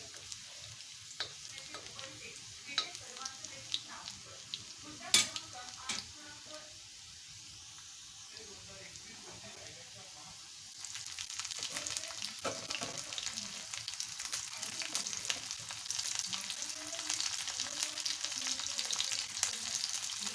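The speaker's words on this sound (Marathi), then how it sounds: "काही लसूण भाजून झाली की नंतर मिरची हे करते" Garlic and green chillies roasting in a pan for a colocasia leaf curry, a soft continuous sizzle that grows louder partway through, with light stirring and occasional speech.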